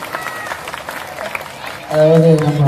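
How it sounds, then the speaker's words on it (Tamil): A crowd at a drum music program at Kapaleeswarar Temple in Chennai gives a loose, fairly soft round of applause, with other sound and voices mixed in, and a louder tonal sound rising near the end. "இன்னும் நல்லா ஒரு கைத்தட்டல் கொடுங்க"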